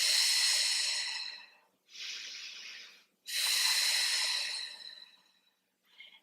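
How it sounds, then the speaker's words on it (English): Slow controlled breaths during a Pilates session, each drawn in through the nose and let out through the mouth, come as long airy hisses with quiet gaps between them and a short final breath, close and clear, with no talking. "Let's start taking a couple breaths. In through the nose, out through the mouth."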